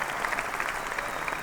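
Applause on a nationally syndicated sports talk radio broadcast: a dense, steady patter of clapping held at an even level for just over a second.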